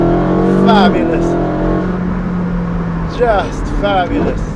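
Ferrari 458 Speciale with a Novitec stage 3 exhaust, running with a steady engine drone and a couple of short rev blips, heard close while a person talks over it.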